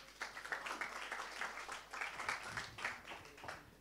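Audience applause at an evening science outreach event, a steady patter of many hands clapping at moderate volume, fairly faint and continuous throughout.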